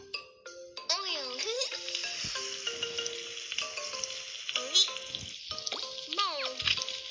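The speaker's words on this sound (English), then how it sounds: "Let's start frying the egg." Egg frying in a kids' cooking game, a steady soft sizzle running under cheerful game music, bright chime effects and a voice talking.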